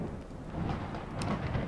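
Thunder rumbles through a rainy storm in the horror game Bad Dream, a low sustained roll with a brief brighter crack near the end, moderately loud and with no voices over it.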